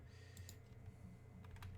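Keys tapped on a computer keyboard, faint, close clicks in an uneven run with a few sharper presses, no voices over them.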